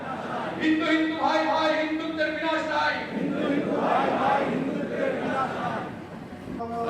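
A crowd at a Hindutva rally in Chicago raises a loud, surging mass of voices, rising and falling in waves as a chanting throng fills the space.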